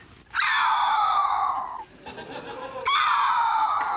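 A human voice imitates a red-tailed hawk's call: two long, high, descending screeches separated by a short breathy pause, close and loud.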